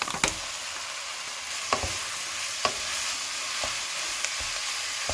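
Minced meat goes into a frying pan of garlic and onion, a hissing sizzle rising under a few sharp scraping taps of a utensil, close and continuous with no talk.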